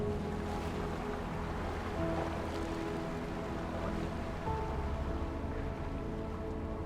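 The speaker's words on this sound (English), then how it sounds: "It's a single, powerful plume of water that drops almost 300 feet down a moss-covered cliff into a hidden pool." Water rushing at the Chidirnak waterfall, a single plume dropping about 300 feet down a moss-covered cliff into a hidden pool in a Dagestan forest, heard as a steady broad roar. Faint tonal hum and music lie underneath.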